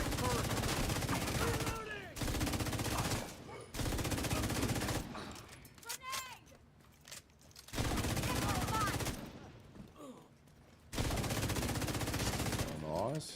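Automatic turret gunfire in The Division 2 comes in loud sustained bursts, separated by short lulls, with a voice speaking in the gaps.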